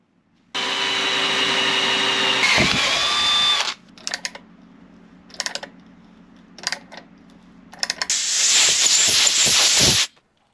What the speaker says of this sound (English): I could then mark up the holes and then drill and tap that new caliper carrier all the way through.